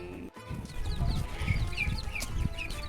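Soft, repeated high peeping calls from a small duck, quiet and close, over a low background rumble.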